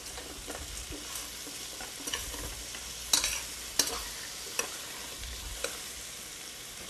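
Toasted walnuts being stirred and heated with caramelized carrots in a pan, giving a steady close sizzle with a few sharp clacks and scrapes of the spoon and no speech.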